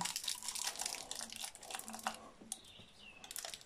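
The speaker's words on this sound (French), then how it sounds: "Et je vais mettre le scotch" Quiet close-up crinkling and tearing of adhesive tape being applied to a KTM 125 SX motorcycle, with short sticky rips and rustles in irregular bursts, no voices.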